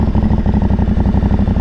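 Aprilia Tuareg motorcycle with a stage 3 setup and aftermarket intake, rolled gently onto the throttle from low speed, giving a steady, loud, close-up engine thrum with a regular pulsing beat and no voices.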